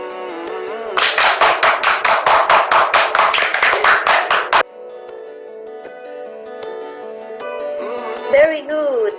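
Steady rhythmic hand clapping, about fifteen sharp close claps in a row lasting a few seconds, then the claps stop and a soft tonal musical background continues.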